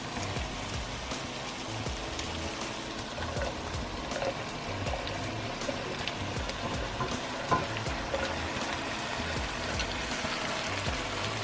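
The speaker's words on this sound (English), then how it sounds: "So the next step to this recipe, I'm adding my potatoes." Potatoes go into a pan of browned ground beef left in its oil, setting off a steady, dense sizzle that crackles continuously with faint stirring and scraping, no talking.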